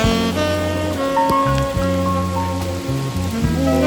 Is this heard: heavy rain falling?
yes